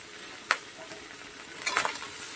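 Rice being stirred and frying in a pan over low flame, a quiet sizzle broken by a sharp scrape and then a cluster of clattering stirs near the end.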